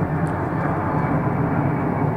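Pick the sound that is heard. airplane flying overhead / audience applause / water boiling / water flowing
airplane flying overhead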